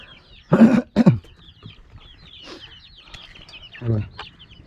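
A hen and her chicks cluck while feeding. Two loud, close clucks open the clip, followed by softer scattered clucks and faint high peeps from the chicks.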